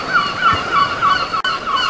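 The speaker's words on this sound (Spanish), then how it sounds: "Esto el ruido de las gaviotas." Seagulls in the Minecraft video game give repeated squawking calls, several in a loud steady run with a brief cut partway, heard alone without voices.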